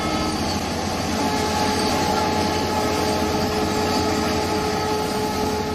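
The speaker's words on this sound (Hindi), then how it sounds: "आपको ये 2 ट्रेनें जाती हुई नजर आ रही हैं" Two trains rolling past on railway tracks near where people live, a steady, loud, continuous rumble with rail noise throughout and no talking.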